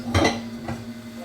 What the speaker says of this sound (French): Sortir un bol pour mixer ça dedans.